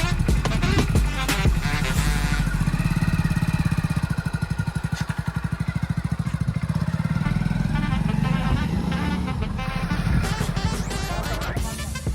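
A Splendor motorcycle engine runs close by while someone learns to ride, a steady mid-pitched putter that revs up and settles, with occasional voices underneath.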